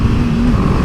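A BMW G310GS single-cylinder motorcycle engine pulls steadily up a steep gradient, a loud, close, continuous droning hum with a constant low tone and no talking.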